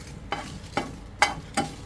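Dry red chillies fry in hot oil for homemade chotpoti, with a soft steady sizzle broken by four brisk stirring strokes at an even rhythm, close and fairly quiet.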